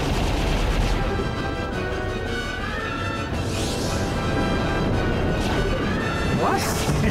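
Gunfire in the space combat game Star Fox Assault, with dense continuous blasts and explosions layered under music and effects, loud throughout with no breaks.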